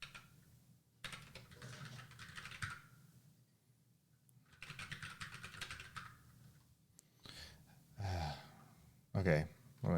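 Bursts of fast clattering typing on a computer keyboard come close and clear, separated by pauses, with a few breathy sighs and gasps in between.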